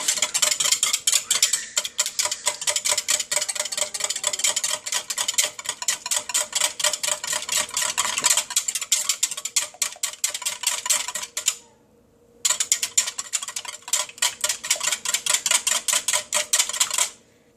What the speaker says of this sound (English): here we have our egg, and we are going to lightly whisk it